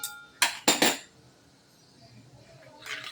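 A spoon clinks sharply against a bowl three times while mixing a milky batter of soda ash and hot water, followed by quiet and a softer scrape near the end.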